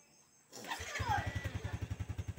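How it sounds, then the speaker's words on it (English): A motorcycle engine is started after a brief quiet moment, catching with a rising whine and then settling into a steady, evenly pulsing idle close to the microphone. "So we will start the motorcycle"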